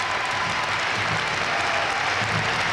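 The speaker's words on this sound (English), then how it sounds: "Please thank with your applause the many volunteers who have worked so very hard" At the 1990 Scott Tournament of Hearts curling final, an arena audience gives the event volunteers a continuous, even roar of applause, with dense clapping and no voices standing out.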